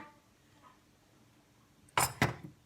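Two quick metallic clanks as a strainer is set down on a metal pot, close by, after near silence.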